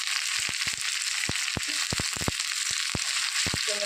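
Ginger and curry leaves fry in hot oil in a pan, a steady bright sizzle broken by a scatter of sharp pops and crackles, close and alone without talk.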